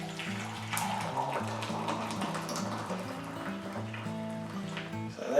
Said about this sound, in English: I'm going to put in our 4 pints of boiling water